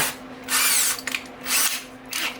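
A power drill fitted with a boring bit whines in two sustained high-pitched bursts with a short gap between, boring into plywood, close and loud with no talking.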